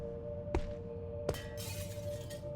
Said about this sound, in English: From the north, you hear glass breaking.